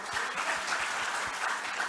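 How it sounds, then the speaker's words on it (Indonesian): An audience at a convention gathering bursts into applause, brisk dense clapping heard up close for a couple of seconds with no talking. "Beri tepuk tangan dong."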